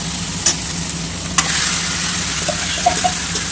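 Chicken and masala frying in a pan, a loud steady sizzle close up with a couple of sharp utensil knocks and faint stirring scrapes.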